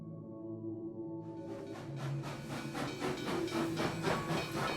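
Steam train arriving at Gettysburg on the line from Washington: broad, rising hiss and rumble with a rhythmic chuffing pulse building after the first second, steady and fairly close.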